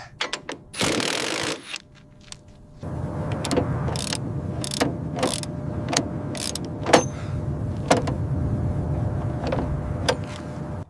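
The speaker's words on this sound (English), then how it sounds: "Now for the impact driver to secure the main bolt." An impact driver tightening the main bolt on a helicopter under restoration: a short, harsh mechanical burst near the start, then a steady mechanical hum broken by repeated sharp clicks and knocks, close by and with no speech.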